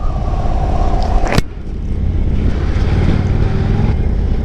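An Indian Motorcycle Sport Chief rumbles steadily while riding, its engine note buried in heavy wind roar, with a brief sharp click partway through.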